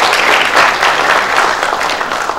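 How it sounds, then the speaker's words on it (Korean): Sustained applause from the audience at a Korean provincial councillors' rally for decentralisation, a dense, steady clapping wash that holds loud and even from start to finish with no voices breaking through. "우리 정순광 위원장님께 다시 한번 큰 박수 부탁드리겠습니다"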